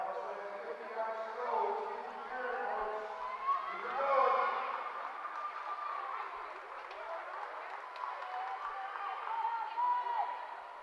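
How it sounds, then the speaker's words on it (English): A crowd at a girls' high school swim meet cheers steadily for a swimmer still finishing her race, a sustained wash of voices and shouts at moderate loudness with a brief swell partway through. "I love that the crowd is really cheering for her still"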